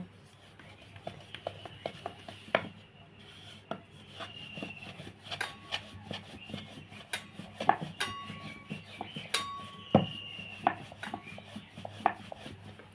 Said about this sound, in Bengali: লেচিটা এই রকম গোল করে বেলে নিয়েছি